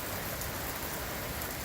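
Heavy rain pours steadily in a windy city, a dense, even hiss of drops hitting surfaces with water running off gutters, continuous and close with no voices.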